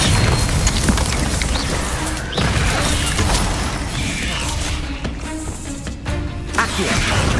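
A loud Descendo spell impact in Hogwarts Legacy during combat, with a heavy booming slam amid dense crunching, clattering and mechanical rattles that keep up across the whole stretch.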